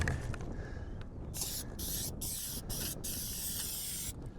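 Aerosol coating sprayed onto a roof vent outdoors, a steady hissing spray in several bursts separated by short pauses, heard close over a constant background of outdoor noise.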